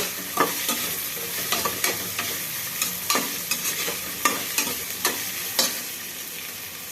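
Frying ingredients for tomato rice hiss in a pan while a utensil scrapes and taps in a regular stirring rhythm, close and fairly loud, with no one speaking.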